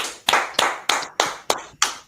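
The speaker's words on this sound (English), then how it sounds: "Clap it up." Sharp hand claps in a steady rhythm, six loud close strikes roughly a quarter second apart, each with a short ringing decay and no talking.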